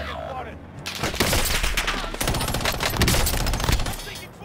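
Dense bursts of gunfire in the battle royale shooter Call of Duty Warzone, loud rapid shots rattling almost without pause, with a voice faintly mixed underneath.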